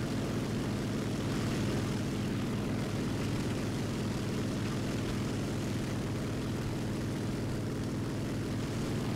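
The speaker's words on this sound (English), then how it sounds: "P-47 coming in for us." A P-47 fighter approaching in the air combat game War Thunder, its propeller engine a loud, steady, throbbing drone that holds evenly throughout.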